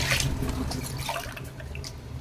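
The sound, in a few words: water poured into pot of soaked rice for chicken biryani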